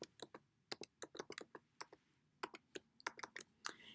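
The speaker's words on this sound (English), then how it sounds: "then type in your password." A password being typed on a computer keyboard: a quick, uneven run of sharp key clicks in small bursts, close and fairly quiet, with no voices.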